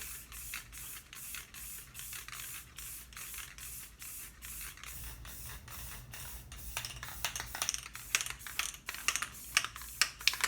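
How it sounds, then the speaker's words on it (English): Short hissing bursts of an aerosol spray paint can coating a tumbler cup, repeated in quick spurts with brief gaps, close by and fairly quiet, growing sharper and more irregular toward the end. "spray it the same way, just spurts"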